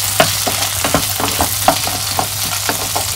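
Poha roasting in a hot pan, with a steady close sizzle and regular scrapes and taps of a spoon stirring the flakes in a brisk rhythm.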